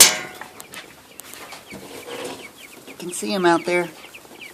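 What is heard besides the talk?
meat chickens clucking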